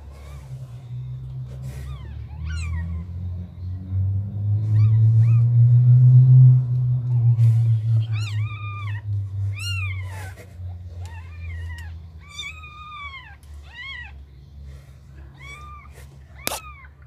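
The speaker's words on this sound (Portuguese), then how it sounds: "Seis gatinhos, seis de novo." Several small, high-pitched meows from six kittens repeat close by, thin and overlapping, over a low rumbling background.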